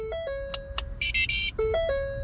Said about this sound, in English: You'll hear a beeping sound to indicate that the 10 minutes countdown has started.